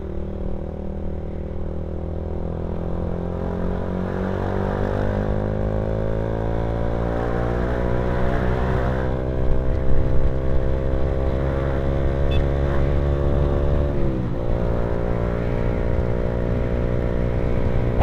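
A motorcycle rides along a smooth road, its engine droning steadily with a gradually rising pitch, then a brief dip as the rider shifts gear, accompanied by continuous wind and road noise.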